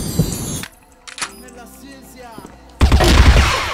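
Gunfire from a shooter video game: a burst of loud shots opens the clip, a quieter stretch follows, then another loud volley of firing in the final second.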